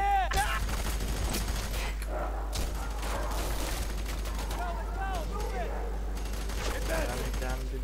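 Suppressing gunfire in the F.E.A.R. 3 video game, heard as rapid bursts of shots throughout against steady low background noise, with voices and game sounds mixed in.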